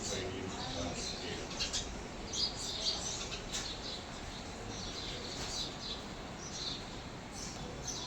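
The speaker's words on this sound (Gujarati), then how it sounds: "બધા પંખીઓ પણ કલબલાટ કરે છે" At dawn, many birds chirp and twitter in scattered, faint calls from a distance. The calls rise over a steady, hissing outdoor background without pause.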